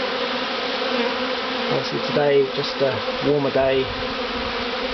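A large honey bee swarm clustered around and inside a wooden box hums in a dense, steady drone close to the microphone on a warm, sunny day, while someone talks over it.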